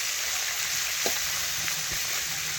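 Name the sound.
puti fish frying in hot oil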